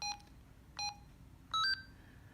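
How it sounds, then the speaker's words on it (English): An FRS two-way radio sounds three short electronic beeps as its volume reaches maximum, the first two single tones and the last a brighter double tone, each crisp and close against quiet room noise. "When it gets to the top, it beeps to remind you that's as loud as this is going to go."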